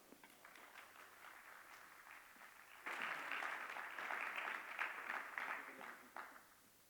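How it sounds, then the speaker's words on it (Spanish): An audience at a mining congress panel bursts into applause welcoming a speaker, clapping starting abruptly midway and holding steady before tapering off, after a quiet stretch of faint talk. "pido que lo recibamos con un aplauso"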